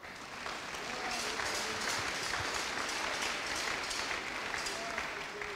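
A church congregation applauds throughout, a steady, dense wash of clapping at moderate distance, with faint voices mixed in beneath.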